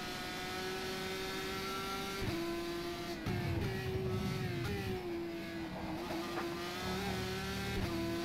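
GP3 race car engine in the rFactor 2 racing simulator during an online race, a high, steady whine holding and dropping slightly in pitch through shifts, with faint tire and ambient noise beneath.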